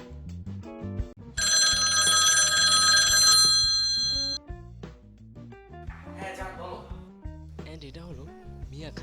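A telephone bell rings loudly and steadily for about three seconds, sitting among the voices of people chatting before and after it.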